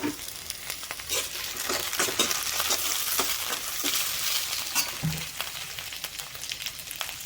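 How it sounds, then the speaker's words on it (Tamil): Tomato and green chilli fry with onions in a pan, a loud, busy sizzle with scraping stirs and clatter running throughout, no voices. "ஸோ இப்போ இந்த ஸ்டேஜில் வந்து நம்ம தக்காளி போட்டுக்கலாம்."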